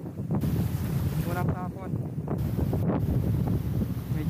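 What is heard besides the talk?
headwind blowing while fishing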